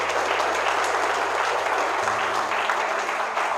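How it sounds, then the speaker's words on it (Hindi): Audience applause from a crowd seated at a network marketing meeting, a steady dense wash of clapping that holds at an even level for a few seconds with no voices over it. "अपने लिए जोरदार ताली बजा लीजिए आप"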